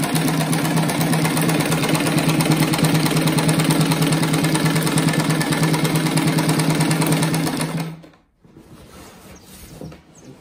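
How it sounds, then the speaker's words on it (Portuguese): A domestic sewing machine runs steadily and loudly, stitching a round rag rug made of fabric scraps, with a dense mechanical hum for about eight seconds before it stops abruptly and only faint handling noises remain. "Agora eu vou na máquina e passo uma costura aqui"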